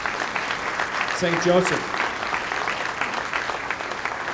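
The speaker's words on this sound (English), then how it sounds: "how about a round of applause for this evening for everybody supporting" A gala audience at a St. Joseph legacy event gives a round of applause, a steady wash of clapping throughout while someone speaks briefly over it.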